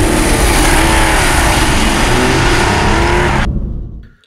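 Porsche 964 converted from C4 to C2 rear-wheel drive, engine pulling hard on a test drive: a loud, steady flat-six roar with rising revs that cuts off abruptly near the end, leaving near silence.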